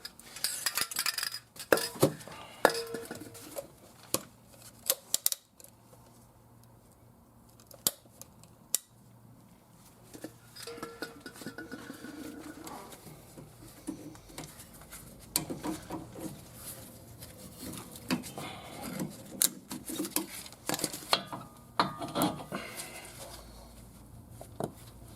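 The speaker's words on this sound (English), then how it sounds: "and cut the clip off the back." A steering rack boot clip being cut off under a Toyota RAV4 2.2 D4D during inner tie rod replacement, heard as scattered sharp metallic snips and clicks over a quiet workshop background.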